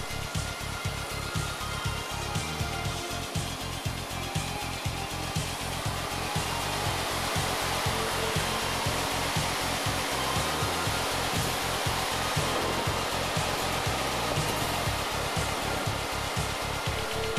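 A Hundegger K2i joinery saw cuts a dovetail joint with a loud, steady, broadband machine roar, and a low pulsing hum runs underneath throughout.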